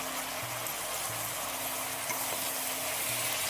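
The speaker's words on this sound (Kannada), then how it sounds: "ಎಣ್ಣೆನಲ್ಲಿ ಒಂದು ಎರಡು ಸಲ ಕೈ ಬಾಡಿಸ್ಬಿಟ್ಟು ಹುರಿದ್ಬಿಟ್ಟು" Sambar premix ingredients, including green gram and pepper, frying in hot oil with a steady, soft sizzle and a faint low hum, occasional light stirring scrapes, no talking.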